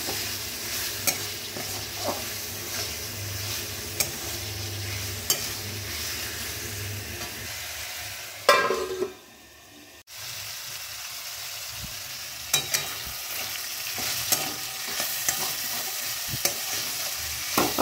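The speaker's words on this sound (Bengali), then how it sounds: "তো এখন এবার ব্রকলিসগুলো দিয়ে দিচ্ছি। এটাকে 3-4 মিনিট মতো ফ্রাই করবো ঢেকে ঢেকে।" Broccoli fries under a lid in a pan with a steady, crackling sizzle that runs nearly the whole time. A short loud burst is followed by a brief quieter lull before the sizzling resumes with scattered pops.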